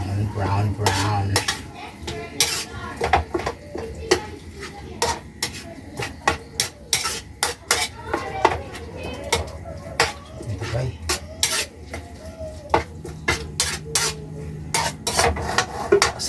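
Ground beef browning in a pan at a Christmas party, stirred with a utensil that scrapes and clatters against the metal in irregular bursts over a low sizzle, with a voice speaking quietly now and then.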